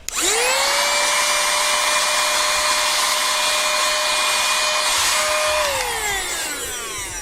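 A motor whirs up to a loud, steady high-pitched whine, runs for several seconds, then winds down.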